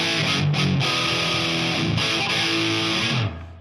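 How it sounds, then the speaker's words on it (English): An electric guitar power chord played through distortion, a loud, thick sustained crunch, struck again a few times and held for about three seconds before cutting off. "pump on some distortion"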